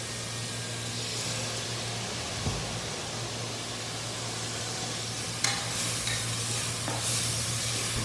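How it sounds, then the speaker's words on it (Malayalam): Onions sautéing with salt in a pan give a steady, moderately loud hiss and sizzle, with a few faint scrapes of stirring and no voices. "ഉപ്പിട്ട് നമുക്ക് ഉള്ളി വേഗം വഴഞ്ഞു വിട്ടിട്ടോ."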